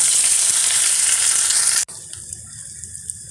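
Onions, green chilies, curry leaves and whole spices such as fennel, cinnamon and cloves sizzle loudly in a hot pan, a dense hiss that cuts off abruptly partway, leaving a quieter faint crackle.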